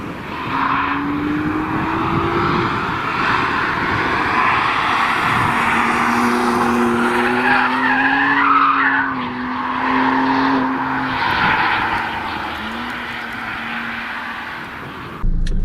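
A BMW engine, apparently an S58, revs in a few rising and falling pulls, a strong steady drone with tonal sweeps heard close and without talk.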